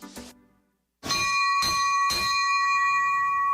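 A ceremonial bell rung to open an evening basketball game in an arena, three bright metallic strikes in quick succession, each leaving a long sustained ring that carries to the end.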